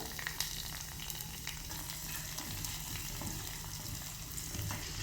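Green chili, small shallots, garlic cloves and curry leaves frying in hot oil for a quick Tamil kuzhambu tempering, a steady close crackling sizzle with light stirring scrapes throughout, no voices.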